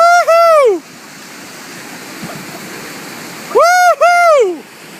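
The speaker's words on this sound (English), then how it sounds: "That was Aaron's first waterfall." Steady rushing water from a waterfall as a Necky sea kayak with a skeg and no spray skirt goes over it, with loud whooping cheers at the start and end.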